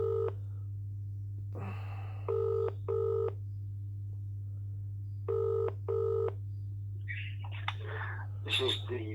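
A phone call being placed to a council legal department: bursts of touch-tone dialing beeps, then repeated paired ring tones over a steady low hum, with faint voice-like sounds near the end.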